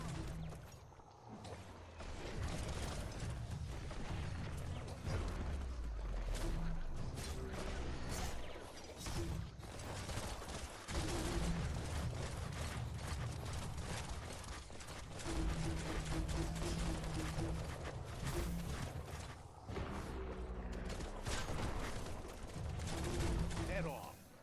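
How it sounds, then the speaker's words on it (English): Sustained gunfire in the action game Biomutant, with dense, rapid shots crackling almost continuously over a loud, busy mix of combat effects and music. "Bullets everywhere."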